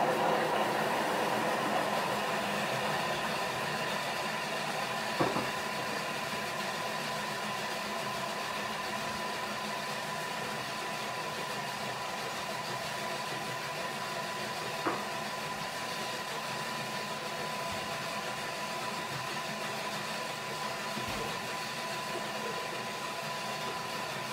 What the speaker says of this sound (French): je vais mixer 30 secondes vitesse 5